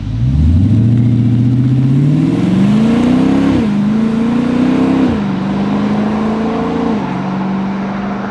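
A Dodge Charger with a valved exhaust, valves open, accelerates loudly close by, its pitch climbing through several gear changes with brief dips between, throaty and continuous, with no voices.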